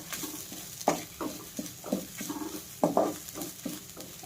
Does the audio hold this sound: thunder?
no